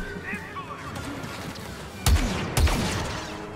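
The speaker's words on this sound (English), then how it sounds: "I'm shooting him." Blaster fire from the Star Wars Battlefront 2 video game, set in the Battle of Endor mission: two sharp, loud shots about half a second apart over a steady battle din.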